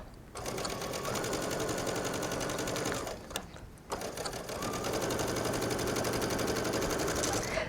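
A sewing machine runs at a steady rapid rhythm, stitching a chiffon rolled hem on a serger, loud and close, pausing briefly in the middle before resuming.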